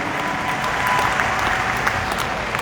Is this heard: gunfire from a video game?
no